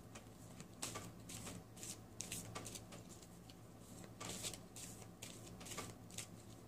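Tarot cards riffled and shuffled repeatedly in quick bursts of crisp, papery flutter, close by, over a low steady hum.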